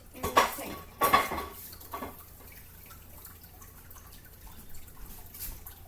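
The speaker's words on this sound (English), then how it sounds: "Take your pan, your hot pan, put it in the sink." A hot frying pan lands in a kitchen sink with two sharp metallic clanks, then a quieter clatter of dishes and faint dripping water fades out.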